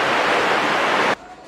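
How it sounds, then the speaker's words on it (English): Heavy rain pouring off a coconut tree, a loud, dense, hissing wash of falling water that runs steadily for about a second before stopping suddenly, leaving only faint background. "you can really see the rain coming down off the coconut tree here"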